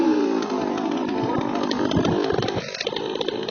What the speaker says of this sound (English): That's how you take down a locust tree 18 inches with a 200T chainsaw.